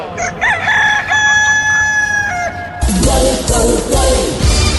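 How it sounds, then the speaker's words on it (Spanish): A rooster crows loudly and close by in a long, wavering cock-a-doodle-doo. A burst of broadband noise follows, with further bird sounds mixed in. "madrugando el gallo, a más de uno alguna vez habrá despertado"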